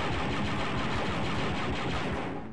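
Loud, rapid gunfire from a weapon in the video game Star Wars: Dark Forces, a dense continuous burst of shots that runs without a break for about two and a half seconds, with no talk over it.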